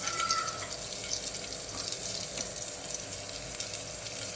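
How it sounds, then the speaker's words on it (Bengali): Vegetables including beans sizzle and fry in oil inside a pressure cooker for khichdi, a steady low crackle with faint scattered pops, close and alone with no talking. "তো এগুলো প্রেসার কুকারে আমি তেলের মধ্যে একটু ফ্রাই করে নেব।"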